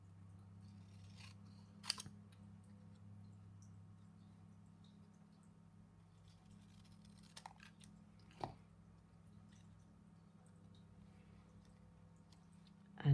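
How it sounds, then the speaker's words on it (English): Scissors make a few brief, sharp snips through paper during an ink blending craft session. The cuts sound faint and widely spaced over a quiet, low room hum. "You can just cut it"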